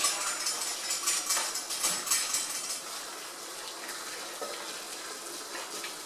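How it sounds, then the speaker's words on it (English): Hot water pours steadily over washed catfish in a pot, a close, bright splashing and trickling that is busier at first and then settles into a softer, even stream with no talk. "Now I'm going to pour my hot water on the fish"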